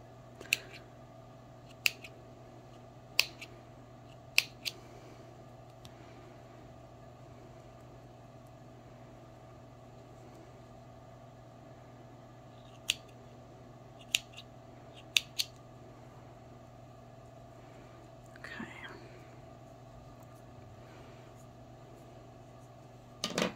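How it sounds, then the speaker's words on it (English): Scissors snip cord for a cork-and-thread tulip keychain: a series of crisp, isolated clicks spaced a second or more apart, near and quiet against a faint steady hum, with no talking. "Trim off that little bit of extra I got there. You trim off your cord."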